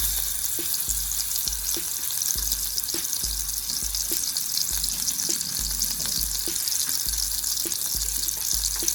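Chorizo and rice fry in a pan with a loud, continuous sizzle and crackle, broken by faint regular taps and light stirring, with no voices.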